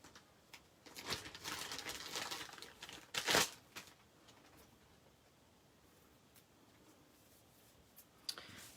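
Double-sided tear and tape for a paper truffle box being handled, with soft crinkling and rustling of the backing, a sharp tearing snap midway, then quiet faint fiddling noises.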